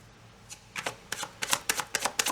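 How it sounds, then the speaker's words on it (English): Tarot cards riffled and shuffled by hand in a quiet room, starting soft and building into a run of crisp, rapid flutters and slaps that grow louder and closer together. "I'm going to pull some more cards"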